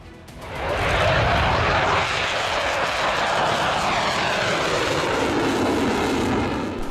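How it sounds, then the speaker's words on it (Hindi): Israeli F-16I Sufa and F-15I Ra'am fighter jets roaring overhead, a loud continuous rushing engine roar that swells in within the first second and holds steady. "16I सूफा फाइटर जेट और F-15I रैम्स फाइटर जेट।"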